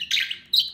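A pet bird gives two short, bright chirps, close and fairly loud, separated by a brief pause.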